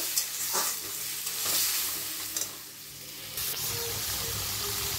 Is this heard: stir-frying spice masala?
yes